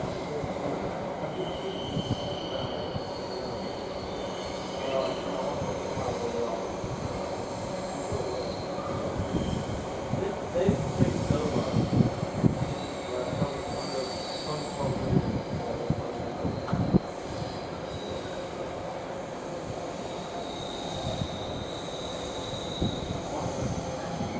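A freight train passes through Nuneaton station on the West Coast Main Line, a long continuous rumble of wagons with wheel squeal and clanking rising in the middle, heard close and alone.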